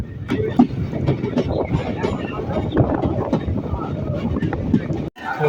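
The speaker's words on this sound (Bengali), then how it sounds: "এই মুহূর্তে ট্রেনটা ঢুকলো মুর্শিদাবাদ স্টেশন" Hazarduari Express train pulling into Murshidabad station, a steady loud rumble and rattle of rail cars with wind noise, continuous throughout without clear talk.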